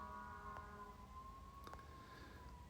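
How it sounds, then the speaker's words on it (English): Emergency sirens wail faintly outdoors, a distant, thin wavering tone drifting beneath a quiet room with no talking. "God, the sirens are crazy."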